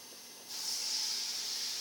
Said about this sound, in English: So let me pour this corn boil. You can hear it sizzle in this pan.